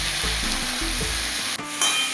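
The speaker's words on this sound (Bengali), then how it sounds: "আবারও কিছুক্ষণ ধরে ভালো করে ভেজে নিতে হবে" Drumstick vegetable curry fries in a pan, with a steady loud sizzle and intermittent stirring scrapes of the spoon, then a brief clatter near the end; no voices.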